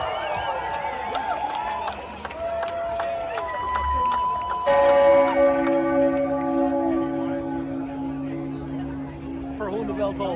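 A deep bell tolls steadily as the live opening of a song at Ottawa Bluesfest, its sustained tones ringing over a murmuring outdoor festival crowd.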